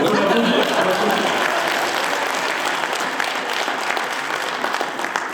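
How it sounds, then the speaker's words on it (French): A crowd at the Lille debate cup final applauds a debate champion with dense, continuous clapping that starts loud and slowly tapers, with faint voices mixed in. "On va l'applaudir."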